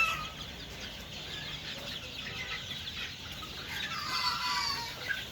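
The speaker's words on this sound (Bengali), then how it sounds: "তো আমার মুরগির চঞ্চলতাটুকু দেখেন" Chickens on sand litter cluck nearby in a busy, overlapping chatter that rises and swells toward the end, with no talking.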